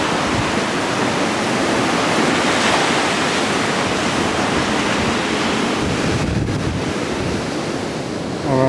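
Steady roar of surf washing onto the shore at Rockaway Beach, New York City, loud and continuous, mixed with gusty wind buffeting the microphone.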